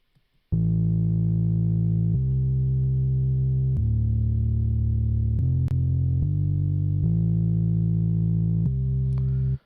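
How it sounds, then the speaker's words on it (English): A distorted bass synth, a music-production plugin with light distortion, plays sustained buzzy notes that change pitch every second or two, loud and alone. "So the bass is where I use that Ravage, just put a little distortion on it"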